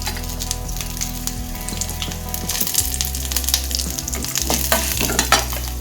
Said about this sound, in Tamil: இப்போ சீரகத்தை போட்டுக்கலாம். இதோடவே வரமிளகாயும் போட்டுக்கலாம்.